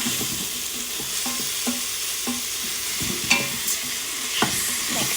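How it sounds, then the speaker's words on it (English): Red lentils stirred with curry powder in a pot, a steady sizzling hiss broken by repeated scraping strokes of a spoon against the pot, close and alone without any voice. "And you have to mix it fast. You don't want the curry powder to burn."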